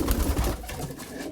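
Pigeons cooing in a loft at a racing-pigeon setting, a close, low, throaty murmur of several birds that fades slightly toward the end.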